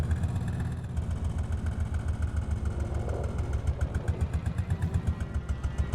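An old tractor engine from the Farming Simulator game chugs at a steady idle, a low rhythmic thrum that stays close and even throughout, with no talk over it.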